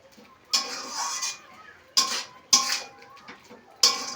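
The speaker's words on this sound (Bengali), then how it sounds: "এইভাবে নাড়তে নাড়তে পুরো রসটা শুকিয়ে নেবো একদম" Carrot barfi is stirred in a pan as the sugar syrup dries, giving four distinct scraping, clattering strokes of a spoon against the metal with brief quiet gaps between them.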